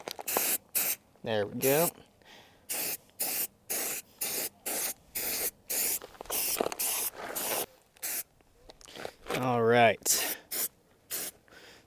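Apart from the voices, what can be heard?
spray painting a rifle with green paint over mesh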